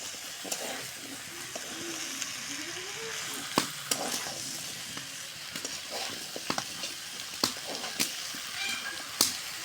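Drumsticks fry with potatoes in a pan, giving a steady, close sizzle broken by scattered sharp crackles and the occasional knock of a spatula stirring, with no talking over it.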